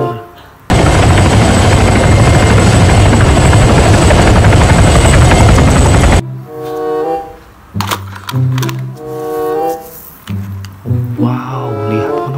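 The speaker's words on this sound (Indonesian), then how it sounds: "Ini pesawat helikopter." A toy helicopter's loud, steady rotor whir runs continuously for several seconds, then cuts off abruptly, leaving clicks and brief tonal beeps.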